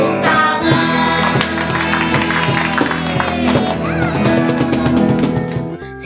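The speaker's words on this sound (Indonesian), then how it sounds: "Kalau kau suka hati tepuk tangan" Children clap in steady rhythm along to a sung Indonesian version of 'If You're Happy and You Know It' at a kids' church service, the claps sitting under continuous singing and music throughout.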